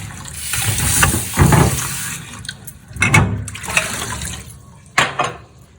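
Water rinses a stained tea cup after scrubbing it with toothpaste. Close splashing and running-water bursts come in several uneven surges over a low background, with no talking.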